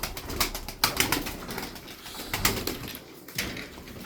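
Sarıkır tumbler pigeons coo and clap their wings in a string of sharp flapping bursts, some loud and close, spaced irregularly over a soft background.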